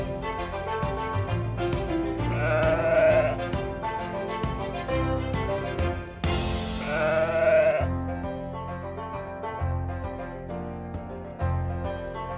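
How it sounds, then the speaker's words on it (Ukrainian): Two clear sheep bleats, wavering and drawn out, rise over a soft musical backing, a few seconds apart. "А це вівця. Вона говорить бе."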